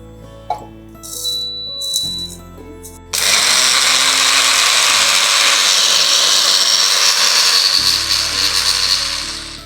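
An electric mixer-grinder powders a dried herbal blend of kuppaimeni leaves, cumin and rock salt, starting with a few short rattling bursts before a loud, continuous high whirring grind that runs several seconds and then winds down.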